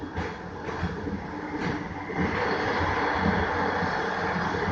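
A SkyTrain Evergreen Line train rolls toward a station, a steady close rumble and rail noise that grows louder and fuller partway through, with no talking.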